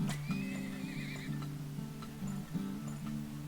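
A horse in the video game Turmoil whinnies in a high wavering neigh over steady clip-clopping hooves, a short game sound effect heard alone.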